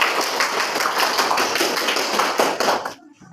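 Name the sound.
class clapping for a group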